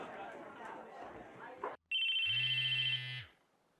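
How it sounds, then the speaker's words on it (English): A mobile phone in the visual novel Chaos;Head Noah rings with a loud electronic tone that holds steady for about a second after a stretch of chatter, then cuts off sharply, ending in a quiet tail. "A loud electronic noise echoed through the classroom."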